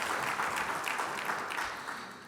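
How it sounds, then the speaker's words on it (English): An audience claps for guest speakers at a personal finance talk, a brief burst of applause from a room of listeners that begins to fade within a couple of seconds. "A big round of applause for all the speakers."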